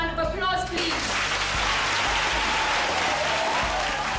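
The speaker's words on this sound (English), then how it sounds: "can we give Santa Shoebox another round of applause, please?" An audience breaks into sustained applause for Santa Shoebox at a school gift-giving event, the clapping swelling in after a brief musical tail and holding as a loud, dense, continuous roar.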